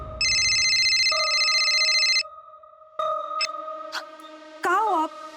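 A telephone rings with a bright, electronic, repeating tone for about two seconds, followed by layered synthetic tones and a voice speaking at the end.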